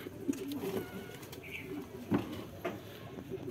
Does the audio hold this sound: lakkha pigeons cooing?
yes